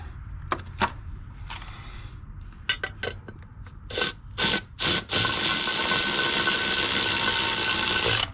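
A bolt being tightened down on a Ford Bronco valve, scattered metallic clicks and taps, then three quick ratchet bursts before a long steady buzzing whir of a power tool, close and loud.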